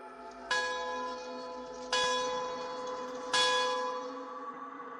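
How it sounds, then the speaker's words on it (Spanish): Three evenly spaced strikes of a large bell, each a sharp clang blooming into a long ringing tone that hums and decays before the next hit, loud and alone. "El ruido de una campana me despertó de mi sueño."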